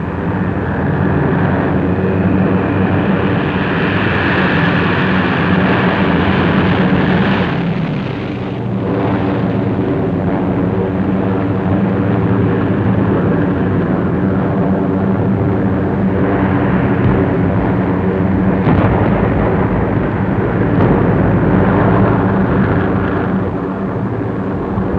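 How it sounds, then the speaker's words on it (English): Waves of WWII bomber aircraft pass overhead in a continuous, loud, droning engine roar that swells and fades across a long stretch, dense and unbroken, with no voices. "Again on the morning of July 25th, the planes came."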